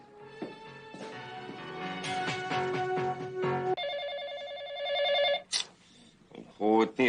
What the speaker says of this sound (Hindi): फोन तो उठा लो।